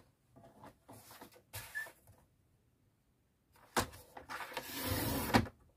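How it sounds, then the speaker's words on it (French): Paper cut on a guillotine trimmer at a scrapbooking table: a couple of soft sliding scrapes, a pause, then a louder rasping cut with a rustle of paper, close by. "On va prendre tout d'abord le massicot pour couper."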